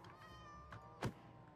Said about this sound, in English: Was there a cat in the boat?